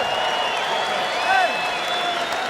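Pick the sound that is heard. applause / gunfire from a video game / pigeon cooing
applause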